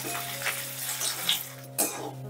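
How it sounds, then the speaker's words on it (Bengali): Paneer pieces fry in hot oil in a pan, half the batch at a time, giving a steady close sizzle with a few brief stirring clatters and a sharp spoon knock near the end. "অর্ধেকটা দিলাম, অর্ধেকটা তুলে নিয়ে তারপর আবার অর্ধেকটা ভেজে নেব"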